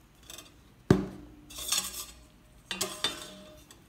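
A utensil clinks and scrapes against a bowl while hotcake batter of flour and sugar is mixed, with a sharp knock and then bursts of stirring and tapping.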